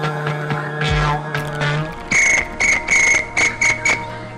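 Crickets chirp in bright, regular pulses, several short bursts in a row, following a stretch of mixed tonal noise and a low hum.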